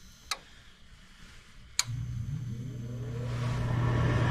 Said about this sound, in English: There goes the draft motor.